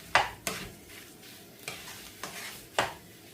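Chicken roll filling is stirred and mixed in a pan, a spoon scraping and knocking in about six distinct strokes over a soft sizzle, close and quiet.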